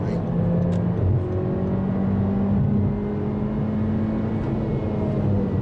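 A car with a 1.5-litre direct-injection turbo engine accelerates from inside the cabin, a steady loud engine drone with rising whine and road roar throughout.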